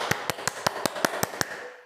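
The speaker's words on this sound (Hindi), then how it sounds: "कोई कहेगा ताली बजाओ," Eight crisp hand claps land at a steady, even pace, close and clear against a quiet background.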